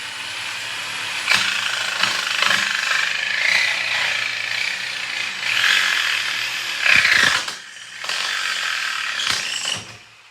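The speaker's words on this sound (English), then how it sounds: "I tried cutting it again, and the tin just keeps bending on me with the jigsaw." A jigsaw rattles and buzzes through a thin tin roofing sheet that keeps bending, in a steady, loud, close cutting run that briefly stops and restarts before cutting off at the end.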